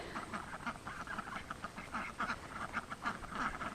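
Ancona ducks quacking in a garden, a steady stream of repeated overlapping quacks from a small flock at close range, continuous throughout with no talk.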